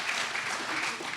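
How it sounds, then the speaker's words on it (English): A dense burst of applause from an audience for an award winner at a chamber of commerce holiday gala and awards night, loud and continuous. "so another round of applause for Jim"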